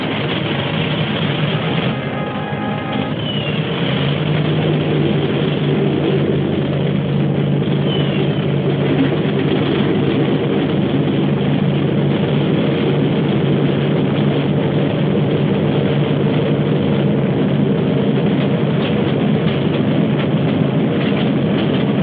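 Several aircraft engines turn over and settle into a steady, loud, continuous drone at a bomber airfield ahead of a combat mission, the dense rumble running unbroken throughout with no voices.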